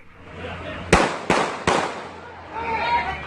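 Three sharp gunshots crack in quick succession, fairly close, over steady background noise and a faint murmur of voices afterward.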